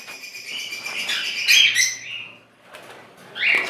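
A pair of bronze fallow lovebirds gives sharp, high chirps and squawks in irregular bursts close by, with brief pauses between calls.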